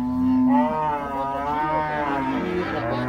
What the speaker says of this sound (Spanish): lo que son las vacas lecheras aquí en el tiangue de Santa Rosa de Lima